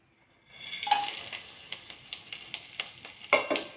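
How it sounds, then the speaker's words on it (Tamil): Whole spices for tempering fry in melted ghee for mushroom biryani, a soft steady sizzle with light stirring scrapes and a couple of small metallic clinks, fairly close. "கொஞ்சம் அது பொரியட்டும்."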